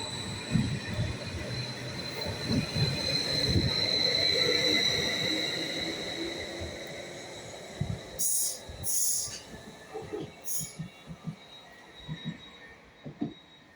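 A Class 755 passenger train passes through Stowmarket station on a service from Ipswich to Peterborough, swelling into a steady rumble and wheel hiss, then fading into bursts of clattering wheels and brief high squeals.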